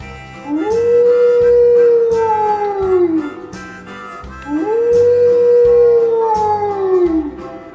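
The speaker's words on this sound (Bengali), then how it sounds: "খ্যাকশিয়ালি পালায় ছুটি" A jackal gives two long, rising-then-falling howls, one after the other, loud over a steady rhythmic musical beat in a children's Bangla alphabet rhyme.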